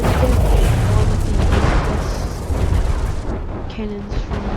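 Heavy cannon fire from the Zeus in the game From the Depths, a rolling run of deep booms and rumbling blasts, loud and close, with scattered later impacts.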